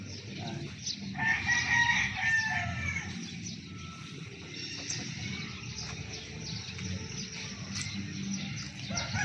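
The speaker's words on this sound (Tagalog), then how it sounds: "May mga panabong pang manok dito sa likod." Fighting roosters crowing behind a house in La Paz, Tarlac, with several moderately distant cock-a-doodle-doo calls over a constant outdoor murmur of background noise.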